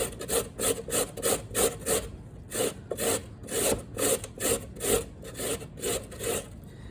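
Beets are rubbed against a box grater in quick, regular rasping strokes, about two per second. Each scrape is close and crisp, with brief pauses between passes.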